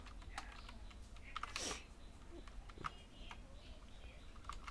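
Quiet, close computer keyboard typing while code is written, irregular soft key clicks in bursts over low room noise, with no talk.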